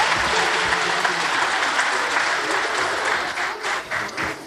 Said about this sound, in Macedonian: Аплауз за нив.